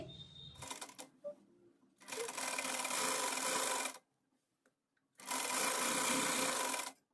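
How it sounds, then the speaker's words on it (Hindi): Sewing machine stitching elastic onto a frock's waist, running in two steady bursts of about two and three seconds with short pauses and handling noise between. "जहाँ पे हमने लाइन ड्रॉ की है वहाँ पे हम स्टिच करते हुए देखेंगे"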